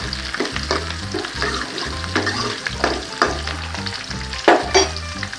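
Onions sautéing in a pan while cooking kovakkai kulambu, a steady close sizzle broken by repeated scraping stirs of a spatula against the pan in a loose rhythm, with no talking.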